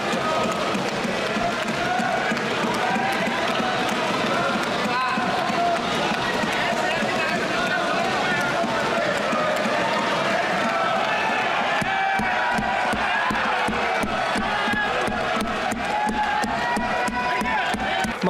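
Loud, sustained crowd noise in parliament, with clapping, cheering and shouting blended together for the whole stretch, voices mixed in throughout.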